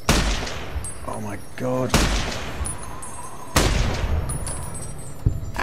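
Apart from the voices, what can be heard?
gunfire with armor-piercing rounds in Fallout New Vegas video game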